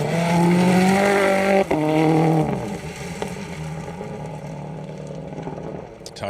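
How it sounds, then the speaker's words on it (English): Ford Fiesta Super 2000 Turbo rally car on a Plains Rally stage in the Welsh Rally Championship, engine loud and close at high revs with gear changes, then easing off as it moves away. "Fiesta Super 2000 Turbo."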